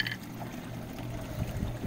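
Water from a DIY hydroponic NFT setup trickles and streams steadily through plastic pipes and channels, a soft continuous pouring sound, moderately close, with faint low background hum and no talking.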